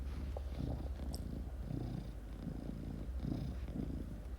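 A cat purring steadily up close, a low soft rhythmic rumble pulsing in even breaths throughout, quiet and alone.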